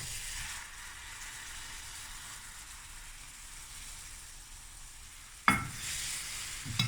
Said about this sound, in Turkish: 1 dakika kadar kavurduğum unun üzerine patlıcanları ilave ediyorum.